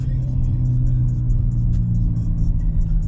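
A car being driven gives a steady, loud low engine rumble and road drone from inside the cabin, continuous throughout with faint high chirps above it and no speech.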